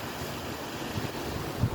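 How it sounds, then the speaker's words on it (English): Water pours down over a dam among frozen, icy surroundings, a steady broad rushing roar heard from nearby, mixed with some wind noise on the microphone. "there's a dam here. It's so pretty with the frozen water just coming down."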